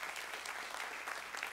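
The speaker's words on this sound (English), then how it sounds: "Let's give them a round of applause." A church congregation at a Sunday missions conference applauds the Spanish-speaking church members, a dense, even wash of clapping that sounds somewhat distant and faint.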